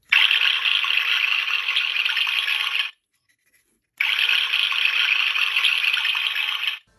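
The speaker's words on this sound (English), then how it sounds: "It sounds like water's running out of the faucet." A vintage keychain toy plays a faucet-running water sound, a steady hissing gush in two bursts of about three seconds each with a short silent gap between, close and fairly loud with no talking.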